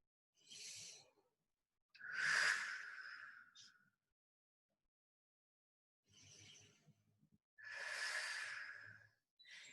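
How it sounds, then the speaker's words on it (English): Deep, slow breaths during a stretch in a shoulders and chest fitness class, four long inhales and exhales in pairs with quiet pauses between, close and fairly clear. "Take 2 deep breaths wherever you are in this stretch."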